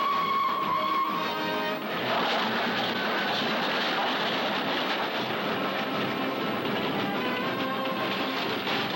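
A train rolls along in motion with a steady rumbling, rattling clatter that holds at a constant loudness throughout, with no voices over it.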